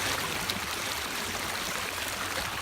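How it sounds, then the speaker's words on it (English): Freshwater river flowing, a steady broadband wash of moving water with faint trickles, even and continuous throughout without talk. "We got our own freshwater river. This is a river."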